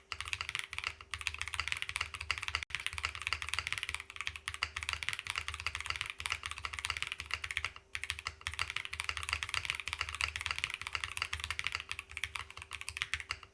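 Rapid, continuous typing on a Photon wireless mechanical keyboard fitted with PBT keycaps, close and crisp key clacks in a fast even stream with brief pauses, including occasional deeper spacebar hits.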